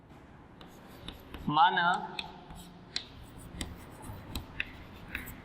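A pen scratches across paper while working out a Class 8 linear equations problem, with faint intermittent strokes and taps under a teacher's speech.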